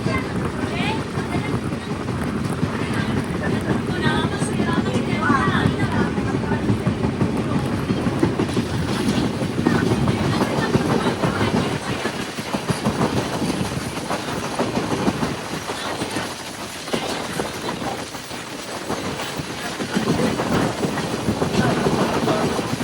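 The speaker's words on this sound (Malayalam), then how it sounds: "ട്രെയിൻ ഇപ്പോൾ മൂകാംബിക റോഡ് ബൈന്ദൂരിലേക്ക് എത്തുകയാണ്" An express train rolls toward Mookambika Road Byndoor station, a continuous rumble with rhythmic wheel clatter and wind noise throughout, steady and fairly close.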